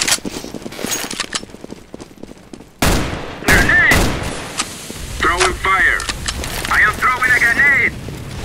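Counter-Strike: Global Offensive match with grenades thrown and gunfire, loud bursts and pops mixed with in-game radio voice calls and whooshing effects, busy and close throughout.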